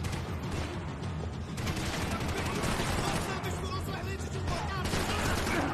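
Rapid bursts of video game gunfire, dense and continuous, fill the scene with a busy layered mix of shots and effects, while a player can be heard talking over the action.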